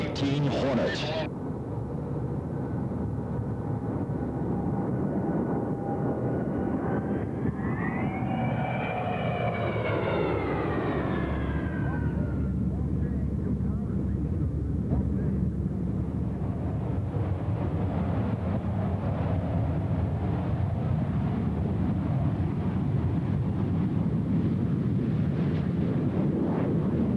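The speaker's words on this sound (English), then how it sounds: "about to see a tactical demonstration by one of the most devastating aerial weapons that the United States fighting forces employ, and that is the FA-18 Hornet" An F/A-18 Hornet from VFA-125 at the 1982 Moffett air show roars overhead, a loud jet whine sweeping upward and then fading into a long, steady rumble of engine noise, with a faint announcer talking beneath.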